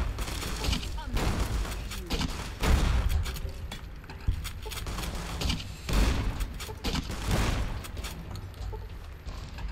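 Grenade launcher blasts and gunfire in Fallout: New Vegas, a string of heavy booms and sharp impacts spaced across the stretch, loud and close, with a voice speaking between the blasts.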